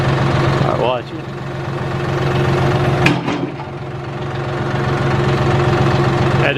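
A John Deere tractor engine runs steadily with its loader attached, a continuous close mid-pitched drone with a brief dip in level partway through and a knocking, idling character throughout.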